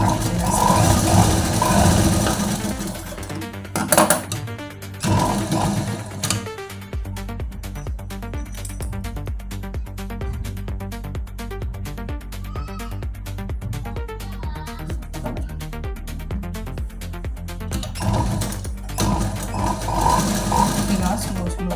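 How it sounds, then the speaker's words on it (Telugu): A sewing machine stitching a small doll dress runs unevenly for lack of oil, its motor whirring and rattling in loud bursts with pauses, while someone talks over it. "మిషన్కి ఆయిల్ సరిగ్గా లేక ఇలా ఉంటుంది కాబట్టి ఆయిల్ పూర్తిగా పెట్టాలి"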